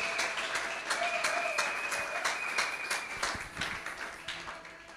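A church congregation breaks into steady applause, many hands clapping together in a sustained, moderately distant wash with a few voices faintly beneath.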